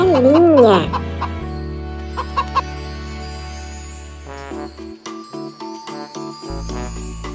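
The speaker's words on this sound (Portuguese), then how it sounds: "Galinha." A farm hen clucks in a quick warbling burst right at the start, set over a playful children's tune with bells and plucked notes that carries on alone afterward.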